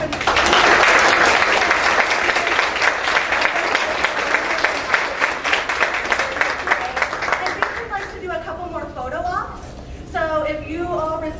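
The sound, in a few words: audience applause at student awards ceremony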